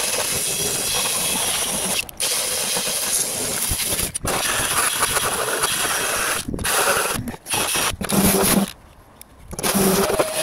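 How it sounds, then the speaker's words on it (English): A wire brush scrubs hard on a metal gutter corner in loud, dense bursts of scraping, broken by short pauses between strokes. "I've hit it with the wire brush"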